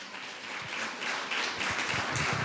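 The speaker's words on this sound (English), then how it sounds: "A big round of applause and gratitude to our drummers, Kushal, Juan, and Anay." An audience at a gratitude ceremony applauding its drummers, a soft, fairly distant wash of clapping that builds slightly, with a few louder claps close by.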